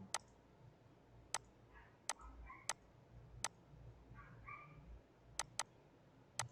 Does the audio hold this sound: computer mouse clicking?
yes